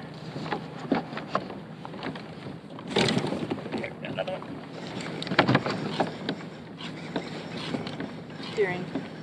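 Water swishes and splashes steadily around a pedal kayak as it moves along, with soft wind noise and bumps throughout.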